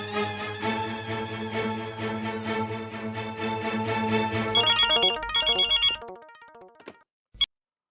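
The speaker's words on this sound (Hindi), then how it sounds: "एक बार फिर मेहता साहब को फोन करता हूँ।" A telephone rings during an outgoing call, with a repeating electronic ringtone melody followed by a few brighter beeping tones before the line drops into silence.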